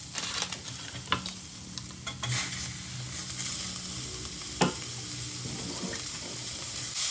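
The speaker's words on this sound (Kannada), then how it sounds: "ಇವಾಗ ನಾನು ಟೊಮೆಟೊ ಹಣ್ಣು ಹಾಕೋತೀನಿ." Onions frying in a pan as tomatoes go in and get stirred, a steady sizzle under scraping spatula strokes and a few sharp knocks against the pan; no talking.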